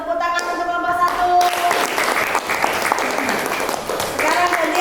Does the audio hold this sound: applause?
yes